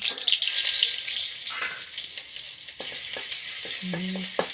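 Cumin and mustard seeds crackle and sizzle in hot oil, a bright spattering hiss that fades, followed by a few clicks and a short tonal clatter.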